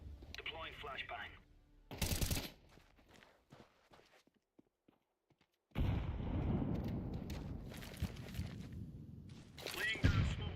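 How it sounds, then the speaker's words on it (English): A flashbang grenade goes off in a video game as a sharp, loud burst. A longer stretch of dense, noisy rumble follows, and a voice can be heard at the start. "Deploying flashbang."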